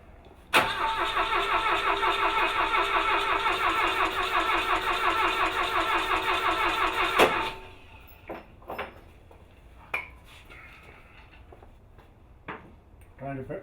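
A car engine cranks in one long steady churning burst of roughly seven seconds without catching, then stops abruptly, followed by scattered clunks and faint sounds nearby.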